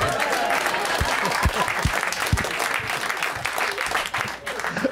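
Studio audience at a comedy podcast taping breaks into steady applause with scattered whoops, continuous and fairly loud, with some voices mixed into the clapping.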